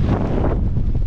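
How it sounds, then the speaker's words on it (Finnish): Steady wind blowing across an exposed fell in the Paistunturi wilderness in autumn, a continuous rushing roar buffeting the microphone close up, with no talk. "tänne se vähän tuulee"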